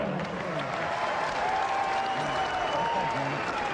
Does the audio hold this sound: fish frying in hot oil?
no